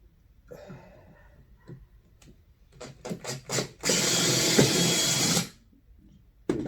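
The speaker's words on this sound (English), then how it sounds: "Drill again." A power drill whirs steadily for about two seconds, preceded by a few clicks and handling knocks, then stops, while building a kayak fishing crate.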